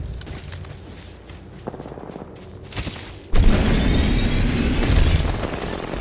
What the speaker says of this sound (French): J'envoie une grenade carrée.